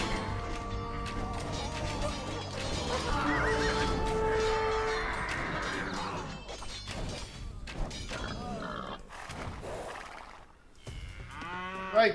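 Cattle lowing in a medieval strategy game from the Jan Zizka campaign: several drawn-out moos overlap with a horse's whinny and hoof clatter, moderately loud, with no talking.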